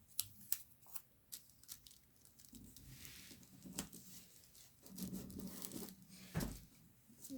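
Scissors snipping through material for a bridge model, a series of short, crisp cuts and rustles close by, with paper or sheet handling in between and no talking.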